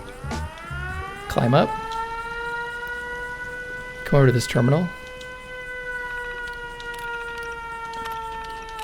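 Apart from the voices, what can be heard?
alarm siren at a raider outpost in video game Fallout 76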